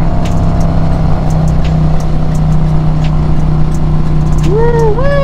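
A Harley-Davidson motorcycle fitted with a Trask power plate runs with a loud, steady engine drone throughout, the tone holding fairly even rather than climbing sharply, with brief high chirps near the end.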